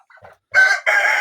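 Roosters crowing close and loud, a couple of soft clucks followed by two strident crow bursts in quick succession.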